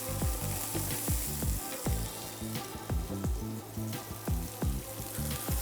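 Whole spices such as cinnamon and cumin sizzle in hot oil over a low flame, a faint, soft frying hiss dotted with quick, irregular pops and crackles, with no talk.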